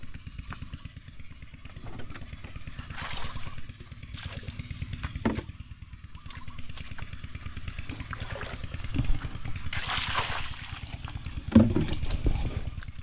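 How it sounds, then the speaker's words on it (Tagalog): A small engine chugs steadily and close up, with occasional clatter and a brief louder burst partway through. "Nagpaandar na ng makina si Bossing."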